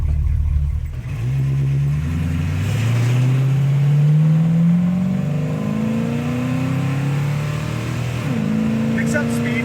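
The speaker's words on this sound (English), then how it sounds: "How about that idle? It just freaking idles perfect." A 1965 Chevrolet Nova Super Sport V8 engine, loud and near, revving up through rising pitch sweeps then settling back, with a steady idle rumble beneath and faint talk over it.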